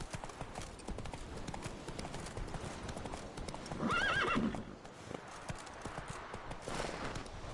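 Horse hooves clip-clopping at a steady walking rhythm in The Witcher 3, with a loud whinny partway through; no talk over it.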